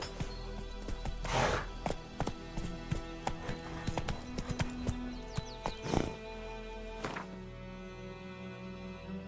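Hoofbeats of the horse Roach galloping in Witcher 3, a steady rhythmic clip-clop with heavier thuds at intervals over a low ambient hum.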